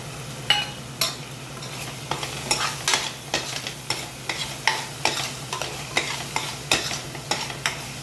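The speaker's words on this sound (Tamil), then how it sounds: "தக்காளியோடு சேர்த்து அதையும் வதக்கணும்." Tomatoes with ground pepper, fennel and cumin powder sauté in a pan. A steady sizzle runs under regular, rhythmic scrapes and stirs of a spoon, close and clear with no talk.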